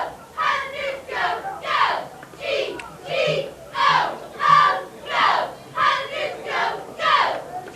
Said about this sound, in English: Crowd coming in here at Somerville High Stillboy Stadium.